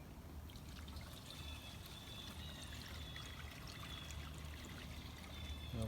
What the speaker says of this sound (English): you're gonna mix 1 gallon of water